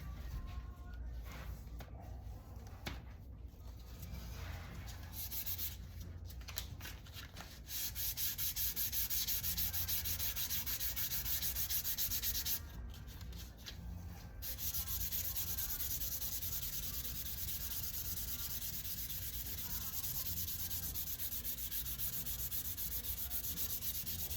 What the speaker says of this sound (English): So I mainly concentrate that little sanding effort along here.